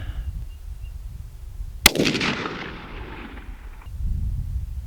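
A single sharp crack from a 6.5 Creedmoor rifle fired at a target while sighting in, a loud report followed by a rolling echo that decays over about two seconds against faint outdoor background noise.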